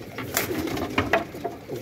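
Pigeons at a pigeon-flying contest coo softly in soft repeated bursts, several birds close by with low throaty calls rising and falling over quiet background noise.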